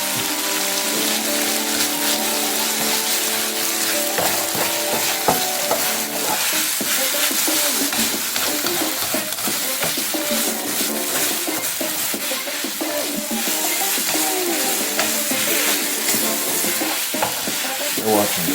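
Chinese vegetables, top chow, are added to a hot pan and sizzle loudly and continuously, with dense crackling frying and occasional stirring clatter for the whole stretch, no one speaking.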